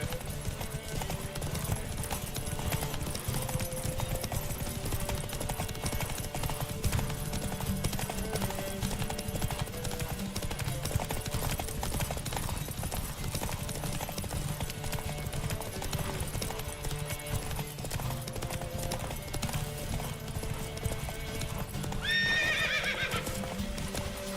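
A horse gallops in The Witcher 3 video game, steady rapid hoofbeats thudding on without pause under layered game music, closing with a loud neigh near the end.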